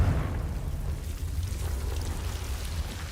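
A Confringo blasting spell goes off in Hogwarts Legacy, a dense rumbling explosion with crackling debris that stays loud and sustained throughout.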